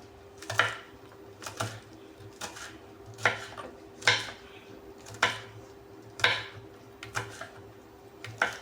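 Green chillies, not very hot, being cut with a knife on a board, giving about a dozen sharp, evenly spaced chops with a steady low hum behind them.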